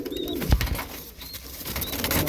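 Golden Teddy pigeons kept by a hobbyist coo in low murmurs close by, amid brief rustles, a thump and a few faint high chirps.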